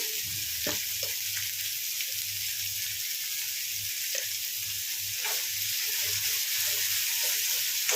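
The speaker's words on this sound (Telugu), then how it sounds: "పచ్చిమిర్చి ఉల్లిపాయలు మంచిగా వేయించుకోండి." Green chillies and chopped onions fry in a pan for an aloo masala curry, giving a steady, close, dense sizzle throughout with occasional soft stirring clicks and no talking.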